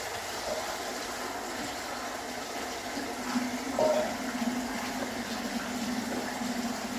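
Steady rushing hum of an electric motor pumping groundwater on a farm, with water gushing continuously at moderate level and a faint low motor drone beneath.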